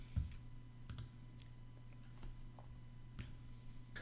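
A computer mouse clicks sharply several times while a button is pressed in an email settings box, crisp close taps spaced irregularly over a low steady hum.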